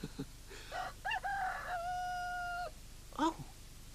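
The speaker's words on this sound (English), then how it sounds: "Oh, the cock is crowing." A rooster crows in a children's television programme: one clear cock-a-doodle-doo with a long held final note, close and fairly loud, between short clucking calls.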